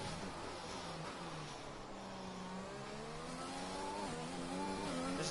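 A race car in a racing video game pulls away from a pit stop, its engine note climbing steadily as it accelerates, one continuous rising whine heard fairly softly without any talk.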